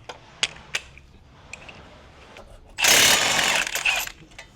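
A burst of impact wrench rattle loosening a 22 mm brake caliper bolt on an Infiniti G35/G37 front suspension, one loud sustained buzz lasting about a second and a half after a few scattered clicks and clanks.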